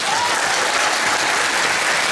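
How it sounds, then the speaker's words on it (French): Audience at a Toulouse Game Show 2011 conference panel gives a short burst of dense, steady applause, loud and filling the room throughout. "On peut l'applaudir."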